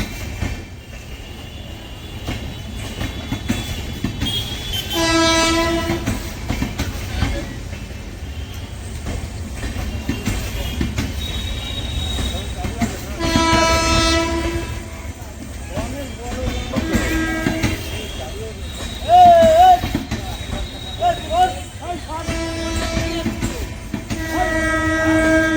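The Tebhaga Express with a brand-new LHB rake runs through Sealdah station, its horn blaring several times over the continuous rumble and clickety-clack of the coaches, loud and close, while someone talks over it.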